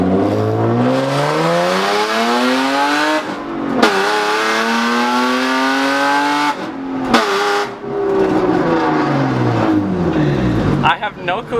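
A straight-piped BMW engine revs hard and continuously, rising and falling in pitch with a loud raspy exhaust, cutting off briefly between pulls, heard from inside the car.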